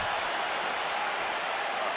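Steady, dense crowd roar fills an arena in the EA UFC 5 video game, a constant wash of cheering and applause with no breaks.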